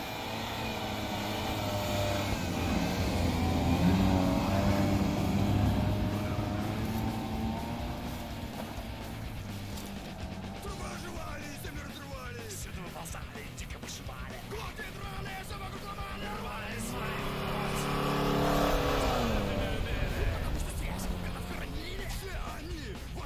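A Shtorm all-terrain vehicle drives past at moderate distance, its engine drone swelling, fading and swelling again, with people talking over it.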